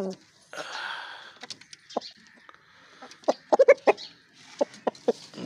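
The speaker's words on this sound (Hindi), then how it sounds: "ये दोनों फीमेल हैं जापानी मुर्गियाँ सिर्फ अंडों के लिए रखी हुई हैं" Two Japanese hens clucking close by in short bursts, several quick clucks in a row with brief pauses, over some low background rustling.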